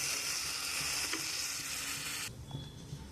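Water goes into a pan of long-sautéed spices for a rita fish kalia, setting off a loud hissing sizzle that cuts off abruptly partway through, leaving quiet bubbling and faint clinks, close and without talk.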